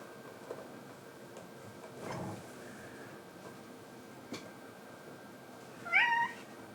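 A cat gives a single short meow near the end, fairly close over quiet room tone. A faint soft shuffle comes earlier, and a light click is heard before the meow.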